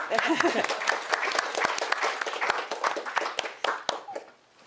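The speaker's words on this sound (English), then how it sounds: "Yes, round of applause." Audience applause at a university lecture: dense hand clapping that fills the room for several seconds, with a few sharp individual claps standing out, a brief voice early on, then fading toward the end.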